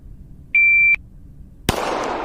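A single sharp pistol shot from a holster draw on a target range follows a steady electronic shot-timer beep, ringing out loud and close with a short echoing tail.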